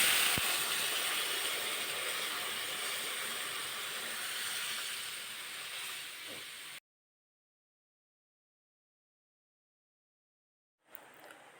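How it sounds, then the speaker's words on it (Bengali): Hot water pours into a pan of spiced potatoes, a steady loud hissing splash that runs for several seconds, then cuts to silence before a brief return. "মশলার সাথে আলু যেন খুব ভালোভাবে মিশে যায়। এবার দিয়ে দেব গরম জল।"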